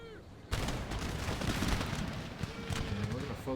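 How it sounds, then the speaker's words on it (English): Musket volleys crackle and rumble in a dense, continuous roll of gunfire across an Empire Total War battlefield, heavy and sustained after a sudden onset, with faint hoof sounds mixed in. "let's open fire"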